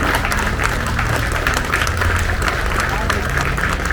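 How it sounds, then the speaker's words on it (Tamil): A large crowd at a public gathering applauds in thanks, steady sustained clapping that fills the whole stretch with a dense roar, loud, with babble mixed in. "இடைவிடாத ஒரு நிமிடம் நீங்கள் கைத்தட்டி உங்களுடைய நன்றியை பதிவு செய்ய வேண்டும்"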